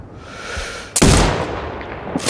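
A single sharp sniper rifle shot in Sniper Ghost Warrior Contracts 2, set in a grey desert: quiet ambient hum, then one loud crack with a rolling echo fading out, and a faint second report near the end.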